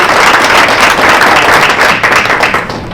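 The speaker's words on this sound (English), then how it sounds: "So if you could give him a round of applause." Audience applause at a reparations summit in Minnesota, a dense, steady wash of many hands clapping that holds loud throughout and eases slightly at the end.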